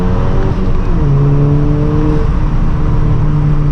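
A 2012 VW MK6 GTI with the 2.0T engine pulls hard in second gear from about 3,000 rpm, a steady, loud engine drone rising in pitch throughout, heard from inside the car with no talk.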